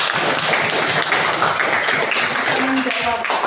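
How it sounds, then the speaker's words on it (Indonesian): Students in a classroom clap their hands together, a dense, steady patter of applause that runs for a few seconds, with voices mixed in underneath. "Tepuk tangan untuk kalian."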